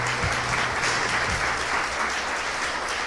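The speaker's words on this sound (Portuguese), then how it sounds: "Vamos aplaudir o Senhor Jesus" A church congregation claps together, a steady wash of hand applause from a roomful of people that carries on evenly for a few seconds, with no talking over it.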